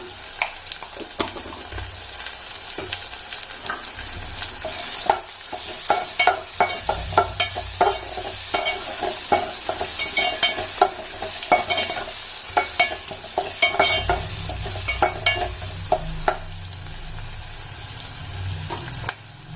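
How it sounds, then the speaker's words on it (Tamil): Onions sizzle and fry in a pan while a utensil stirs and scrapes repeatedly, a steady crackle with clinking scrapes throughout, no talking. "இப்போ வெங்காயம் வந்து நல்லா வதங்கி வந்துருச்சு."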